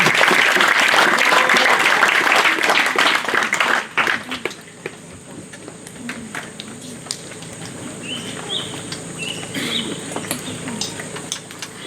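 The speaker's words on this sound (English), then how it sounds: "Let's give a round of applause to meinisin Pasavel." Graduation audience at a high school ceremony in Tonoas applauds honor roll students, a loud sustained wash of clapping for about four seconds that drops to scattered claps and faint murmur with occasional bird-like chirps.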